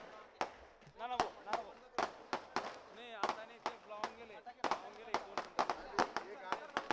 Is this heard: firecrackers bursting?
yes